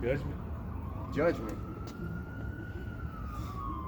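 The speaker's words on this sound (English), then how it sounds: "Hey, that's the ambulance right there." An ambulance siren wails at a distance as the vehicle passes, its single steady tone sliding slowly downward beneath outdoor background noise, with people talking over the start.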